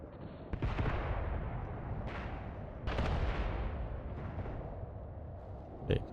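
Pak 97 anti-tank guns firing in the WW2 game Mius Front, several heavy booming shots a second or so apart, each trailing off into a long rumble over continuous low battlefield noise, followed by one sharper nearer crack.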